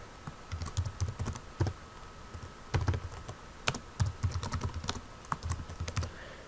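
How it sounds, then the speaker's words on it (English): Keys on a computer keyboard clatter in quick bursts of typing, close and fairly quiet, with short pauses between clusters of taps. "come over to the side here and type in the comment"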